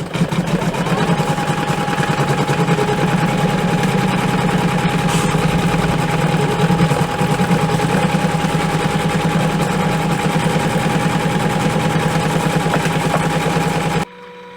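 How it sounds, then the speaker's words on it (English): A computerized embroidery machine stitches quilting designs into vinyl for an in-the-hoop glasses holder, giving a steady, fast, rhythmic mechanical whir that runs without a break and then stops abruptly near the end. "once the quilting is done, we are going to remove the hoop from the machine"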